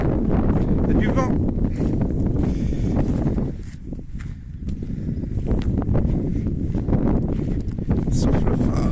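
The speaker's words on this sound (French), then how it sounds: "Je coupe parce qu'il y a trop de vent." Strong outdoor wind buffets the microphone, making a loud, continuous low roar that eases briefly around the middle before surging back.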